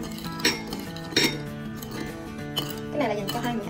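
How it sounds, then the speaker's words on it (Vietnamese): A spoon stirs a chili sauce and water mixture in a bowl, giving a few bright clinks and scrapes against the sides over about four seconds, with faint background music and a hint of voice. "Rồi bây giờ mình sẽ khuấy nhiều hỗn hợp lên nha."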